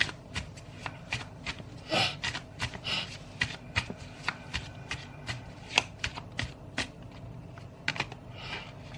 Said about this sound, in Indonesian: Aku shuffle dulu ya.